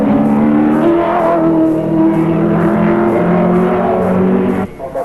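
Bobby Morris's John Sands Holden Commodore, number 4, races at Mount Panorama during the 1983 Bathurst 1000, its engine droning loud and steady with a rising, sustained pitch before dropping off sharply near the end.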